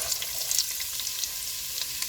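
Celery sautéing in about two tablespoons of extra virgin olive oil, a steady close bright sizzle with faint crackles throughout, no talking.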